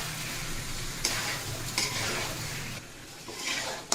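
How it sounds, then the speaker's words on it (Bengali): Pre-fried chicken pieces are stirred in a hot pan, a continuous close sizzle broken by repeated spatula scrapes and light clatters against the metal. "এই যে ভেজে রাখা চিকেনটুকু দিয়ে দিচ্ছি। সুন্দরভাবে নেড়ে নিব।"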